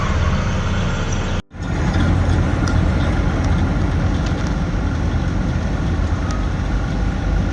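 A vehicle engine drones loud and steady while driving, with continuous broadband rumble, a brief dropout near the start, and no speech over it.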